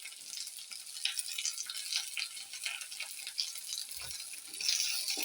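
Green chilies fry in a pan for a bottle gourd stir-fry, a bright crackling sizzle running continuously and faintly, with a soft low bump partway through and no talk.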